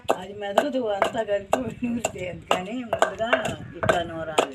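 Green chilies are pounded in a stone mortar with a rhythmic series of sharp, close knocks and grinding scrapes, with a voice speaking intermittently underneath.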